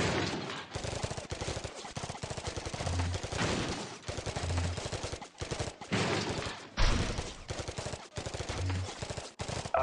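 Rapid automatic gunfire in the Android video game Alien Robot Monsters, loud dense bursts repeating almost without pause across the whole stretch, with short gaps between volleys and no talking.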